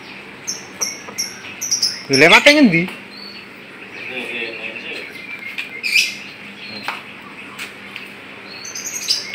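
Farmed magpie robins give scattered chirps and tweets at a breeding site in Boyolali, with one loud swooping call and occasional flapping, while someone speaks briefly nearby.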